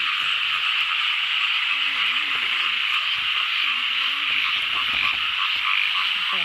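Frogs and toads croak loudly in a dense, continuous chorus at night, with a person talking briefly over the din.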